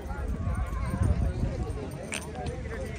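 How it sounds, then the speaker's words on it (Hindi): Horses readied for an event at Fortress Stadium, with clip-clop hooves and stamping under steady crowd noise and nearby talk. "घोड़े रेडी हो गए हैं सारे इवेंट के लिए"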